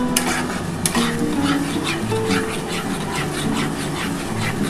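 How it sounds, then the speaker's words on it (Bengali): Semolina stirred in a pan while cooking for semolina luchi, with a continuous brisk scraping and rustling and light clinks of utensil against metal, close and fairly loud, no talking. "সুজিটা ভালোভাবে নাড়াচাড়া করতে হবে,"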